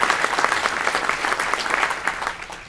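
An audience at a breakfast event claps in warm, sustained applause, a dense steady patter of many hands that holds for a few seconds without voices.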